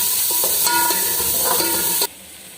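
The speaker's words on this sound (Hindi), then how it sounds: "इसमें हम हरी मिर्च डालेंगे।" Green chillies dropped into a pan of sizzling garlic, ginger and coriander paste, a loud close frying hiss with a few stirring scrapes, ending abruptly.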